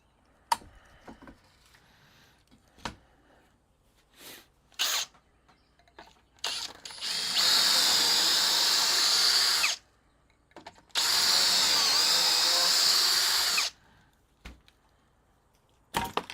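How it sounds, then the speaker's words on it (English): A power drill boring pocket holes into wood with a jig, two sustained loud whirring bursts of a few seconds each, separated by a pause and surrounded by clicks, knocks and handling noises. "So let's go ahead and drill our pocket holes for this one."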